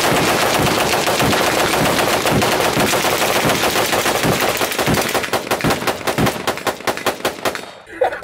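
An AK rifle firing automatic bursts outdoors, loud and close, a dense hammering stream of rapid shots that breaks into distinct evenly spaced reports toward the end.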